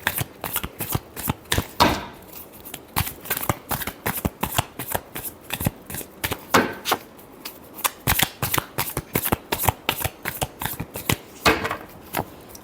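Tarot cards being shuffled by hand, a close, crisp riffling of the deck in rapid irregular bursts that keeps going without a break and stands alone with no talk.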